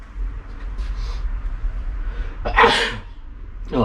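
A single loud, close sneeze bursts out in a garage workshop during a Holden VL Turbo Commodore distributor rebuild, over a low steady hum.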